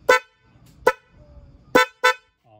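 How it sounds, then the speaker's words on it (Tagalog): Four short, loud honks from a motorcycle dual horn under test, sounded close up in two pairs with brief gaps between them and no other noise around. "Tapos testing natin yung busina kung tutulog na siya."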